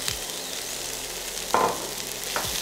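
Leftover turkey in bite-sized pieces goes into a pan of vegetables, giving a steady sizzle and frying hiss with a couple of brief louder bursts as the food hits the hot pan.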